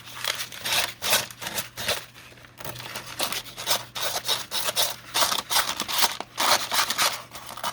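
Sandpaper scraping along paper edges to distress them during a papercraft project, a loud, rough rasping in repeated short strokes with brief pauses, close up and without talk.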